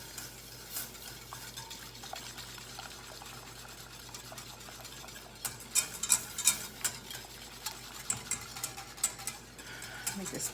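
Vanilla-infused milk whisked in a pot while making pastry cream, coming near a boil, giving a steady wet stirring swish with small ticking clicks of the whisk against the pot, growing busier and more percussive in the second half.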